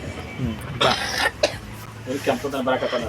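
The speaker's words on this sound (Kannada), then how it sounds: "ಯಾಕೆ ಕೆಮ್ಮಿದೆಯಪ್ಪ" Two short, sharp coughs burst out close by, amid nearby voices and light indoor background noise.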